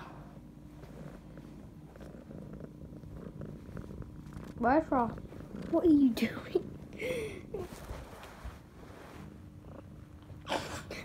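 A cat purrs close to the microphone in short throaty bursts between quiet stretches, with a person talking to it softly over the sound.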